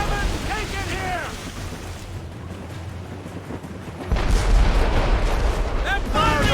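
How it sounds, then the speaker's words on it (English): Ship cannons fire in the Assassin's Creed Rogue naval battle, with dense booming blasts and rumbling roar, louder near the end, and shouted voices of the crew over the din. "They're firing, sir! We've been hit!"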